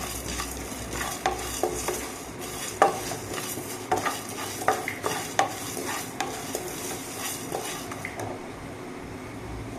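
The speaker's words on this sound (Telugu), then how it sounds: "ఇందులో కొంచెం మినపప్పు కూడా వేయాలండి ఇవన్నీ బాగా వేయించుకోవాలి" Urad dal and spices fry in a pan, a steady sizzle broken by repeated clinking scrapes of a spatula stirring against the metal, close and fairly loud.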